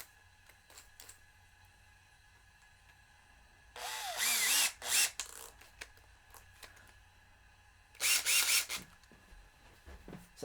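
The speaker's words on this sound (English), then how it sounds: "Fire up my drill bit." A power drill whirs in two short, close bursts while the neck is removed from a Martin D-18 guitar, with quiet handling noises in between and no talking.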